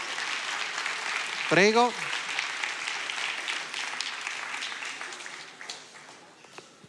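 Audience applause at a regional day of memory and commitment ceremony, a steady patter of clapping from a crowd running through the clip and fading toward the end, with a voice speaking briefly over it.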